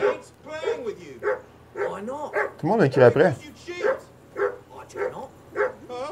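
A dog barks in the medieval video game Kingdom Come: Deliverance 2, with short woofs and yips mixed under near-constant conversation between game characters and players.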